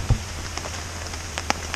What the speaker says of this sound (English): Keep having passing rain showers.